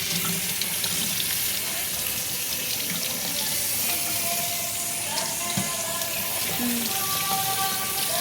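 A kitchen tap runs continuously into a sink while potatoes are scrubbed clean, with a close steady splashing stream and occasional clinks; someone talks quietly in the background.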